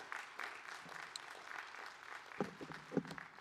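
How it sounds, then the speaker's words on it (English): Commencement audience applauding faculty at a College of Arts & Sciences ceremony, quiet and distant with soft steady clapping, a few louder close claps near the end. "Let's give our faculty a round of applause."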